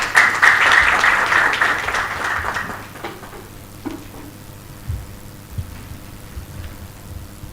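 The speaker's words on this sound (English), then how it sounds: "A round of applause for Milka, please." Applause at the Kenya Peering Forum 2023 for a panel moderator, a burst of audience clapping that fades after about three seconds, leaving a few scattered claps and room noise.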